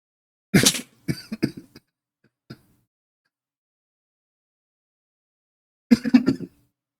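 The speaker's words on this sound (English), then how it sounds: "Got a coughing fit there." Close, harsh coughing in a rapid burst of several coughs, a single faint cough after it, then silence before another loud coughing burst.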